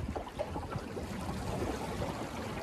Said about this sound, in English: I don't know if that's a wake from a boat or what.